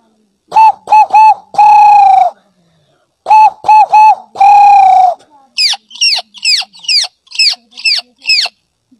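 A boy from the Sundarbans vocally imitates bird calls, first repeated cooing-style notes in two bursts of short hoots ending in a long held tone, then a rapid series of sharp chirping whistles, loud and close.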